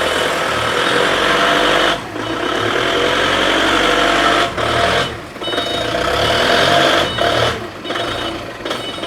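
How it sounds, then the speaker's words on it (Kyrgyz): A small diesel engine on a compact tractor runs steadily at close range, its loud continuous chugging dipping briefly a few times, with a high whining tone layered over the engine noise. "Обычный эле дизель мотор"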